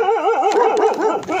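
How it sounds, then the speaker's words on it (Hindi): Dogs near a road at night: a close, loud dog whimpering and yipping in rising and falling wavering cries, with short barks, continuous over a second and a half. "ये कुत्ते कुछ ज्यादा ही नजदीक आ रहे हैं मेरे हिसाब से।"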